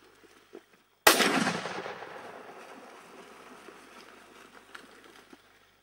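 A rifle shot finishes off a wild boar at the water's edge during a hunt: one sharp, loud crack that rolls away in a long, fading echo over a quiet outdoor background.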